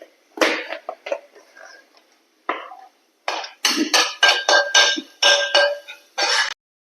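A spoon scrapes and clinks against a pan while masala with chicken masala and turmeric is sautéed, in short irregular bursts that grow busier toward the end, close and clear with no talking.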